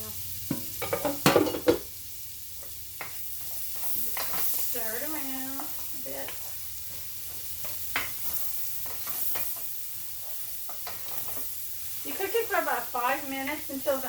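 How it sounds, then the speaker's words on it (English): Diced onions sizzle in a skillet while being stirred, with scraping and clinking of the utensil against the pan over a soft hiss, and someone talks briefly at points. "You diced onions, 1/2 of an onion. If you don't like as much onion, you can put less, Just stir it around a bit."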